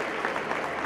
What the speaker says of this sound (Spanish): Vamos a recibir con un fuerte aplauso a Víctor Rojas.